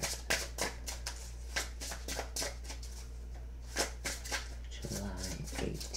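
Tarot cards being shuffled by hand during a reading, a run of soft riffling, flicking strokes in repeated bursts over a steady low hum, with a voice briefly heard near the end.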